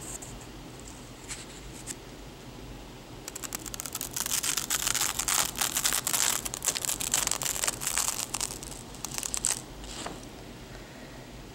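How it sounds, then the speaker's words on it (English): Dry paper crinkles and rustles in a steady stretch of handling, with crisp fresh comic book sheets peeling apart up close and no voices. "let's see if we can capture a sound of fresh comic books"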